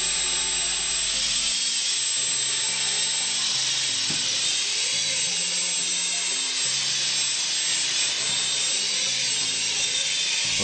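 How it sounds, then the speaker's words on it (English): Quadcopter motors and propellers spinning steadily on an APM-controlled build, a loud continuous high whine with a shifting lower hum as the throttle varies. "Let's stop the motor."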